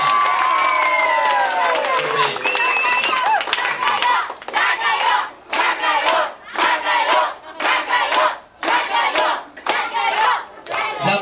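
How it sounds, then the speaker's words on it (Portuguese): A crowd at an evening modelling contest claps and cheers loudly for a model, starting with shouts and whistles and then breaking into rhythmic bursts of applause. "As palmas de vocês pra Silvia!"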